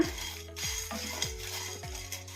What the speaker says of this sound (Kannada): ಒಂದು ಐದು ಒಣಮೆಣಸಿನ್ಕಾಯಿ ತೊಗೊಂಡಿದ್ದೀನಿ ಈಗ ಇದನ್ನು ಹಾಕೋಣ ಈಗ ಕಲಿಸ್ಕೊಂಬಿಡೋಣ